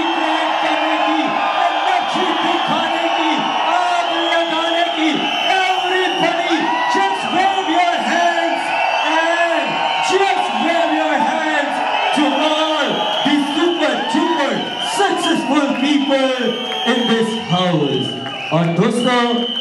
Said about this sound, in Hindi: सिर्फ एक आवाज सुनाई देनी चाहिए वो है आपकी चीखने की चिल्लाने की शोर मचाने की सीटियां बचाने की